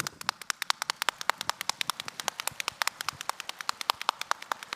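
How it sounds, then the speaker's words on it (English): Heavy raindrops from a passing storm patter sharply and steadily at close range, a dense run of crisp individual drips and splats with no voices over them. "You hear the raindrops falling down."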